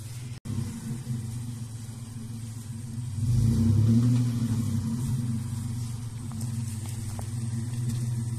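An off-road vehicle on an overlanding trip in British Columbia crawls down a rocky descent into a mud bog, its engine a steady low rumble that swells as it revs around the middle.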